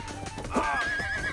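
A horse in the western video game Rustler gives a sharp, loud neigh that rises and trails off into a whinny, with low background game ambience.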